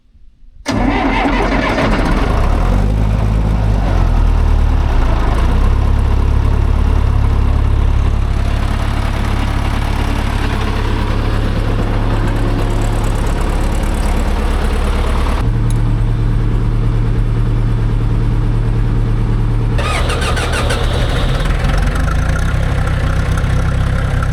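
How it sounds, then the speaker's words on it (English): Vintage 1970s John Deere equipment engines crank and catch almost immediately, then settle into a loud, steady, rumbling idle close by that shifts in tone a few times as it runs on. "Let's fire up some vintage John Deere equipment."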